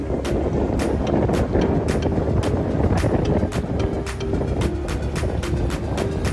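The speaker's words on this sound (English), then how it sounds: "So windy and cold" Strong wind buffets the microphone in steady gusts on a boat near Lisbon's square, a constant rumbling roar with repeated sharp thumps, loud and close, with no talk heard.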